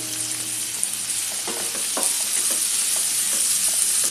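Onion with a little salt frying in hot oil on full gas, a steady close sizzle with bursts of stirring and scraping in the pan partway through, no talking.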